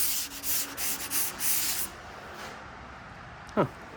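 Hand sanding on a rusty GMC Sierra truck bedside panel with coarse 80-grit paper: a run of rhythmic, scratchy back-and-forth strokes, close and fairly loud, then a pause with one short scrape near the end.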